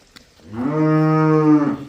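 A buffalo on a Punjab dairy farm gives one long, loud, close moo that rises and holds for more than a second before cutting off.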